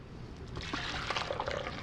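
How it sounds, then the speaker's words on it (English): Homemade coffee liqueur poured into a kitchen sieve lined with cheesecloth, giving a close, steady liquid splash and trickle that builds over about two seconds; no voices are heard. "I'm using a traditional kitchen sieve, and I've put in a little cheesecloth, and that's going to allow me to go ahead and just pour"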